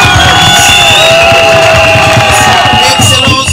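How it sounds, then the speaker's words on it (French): Dense crowd noise with cheering and clapping at an official gathering in Boma, loud and continuous with voices calling over it. "Il mérite nos salutations par les applaudissements."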